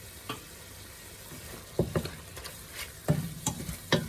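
Baked spaghetti sauce fries in a pan under a low sizzle while a spoon stirs it, making intermittent scraping knocks against the pan that cluster toward the end, close and without talk.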